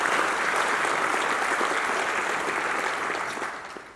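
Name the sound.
audience round of applause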